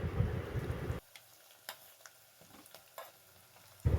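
Garlic cloves frying in a pan for ghugni are stirred, with occasional faint scrapes and ticks over a soft sizzle, framed by louder bursts of frying at the start and end.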